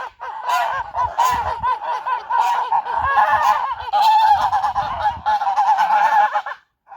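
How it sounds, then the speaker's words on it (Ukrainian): Loud, insistent honking from several Tula fighting geese overlapping almost without pause, harsh and close, cutting off abruptly near the end. "Самі голосні гуси із всіх гусей, я вам хочу сказати, це оці тульські бійцеві прямоносі."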